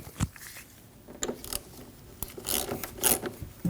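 Wrench loosening the negative battery terminal nut, 10 mm, on a 2015-2022 Chevrolet Colorado: a close series of short metallic rasps, ratchet clicks and rubbing scrapes in bursts, with no talk.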